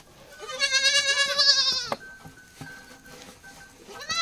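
Young goat kids kept in a small pen in a Himalayan village bleat loudly and close, one long wavering cry followed by a shorter call starting at the end.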